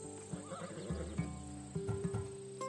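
A Macedonian warhorse in Assassin's Creed Odyssey whinnies in a loud, close, quavering neigh, followed by a few snorts and hoof thuds over a low game ambience.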